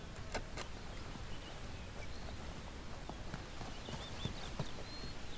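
Konik horses walk at the Florianka stables in Poland, their hooves giving faint, scattered clip-clops over a steady outdoor hiss, with occasional soft bird calls in the distance.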